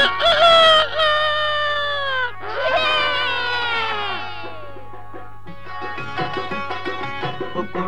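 A rooster crows loudly and close by, two long drawn-out calls one after another, followed by fainter clucking and bird chatter.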